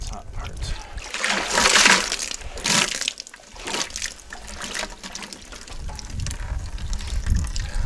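Clean water runs and splashes into a container of a few gallons for rinsing, an uneven trickling pour with bursts of splatter, heard close while a person talks at times over it.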